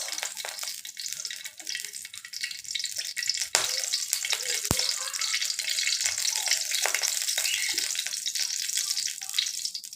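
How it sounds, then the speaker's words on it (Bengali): Cumin, a cinnamon stick and a large cardamom pod sizzle in a little hot oil, a steady bright crackling hiss that runs close and unbroken, with a few small clinks and knocks from the pan. "অল্প করে তেল আর তেলে আমি বাগারে দিব একটু জিরা একটা দারচিনি আর একটা দিব বড় এলাচ"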